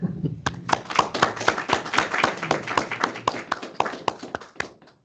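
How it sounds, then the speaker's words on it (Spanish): A small audience at a workshop talk claps, with loose, uneven hand claps and a few louder individual claps. The applause is close and lively, then thins out and fades near the end. "Un aplauso, ¿no?"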